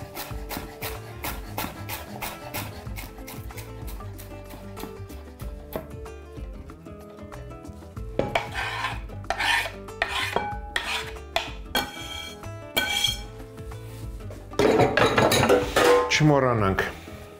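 A small bunch of fresh dill is finely chopped with a knife for a shrimp salad. Rapid, regular taps come first, then denser, louder bursts of chopping, with faint talk underneath at times.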